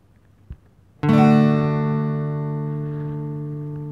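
A single guitar chord strummed once in a beginner's lesson, ringing out bright and full with a slow natural decay, after a faint tap just before it.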